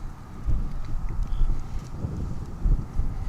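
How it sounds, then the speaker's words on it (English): Gusty wind at an airport buffets the microphone with low rumbling bursts, a steady rushing roar rising and falling throughout. "It's windy today. You might be able to hear it."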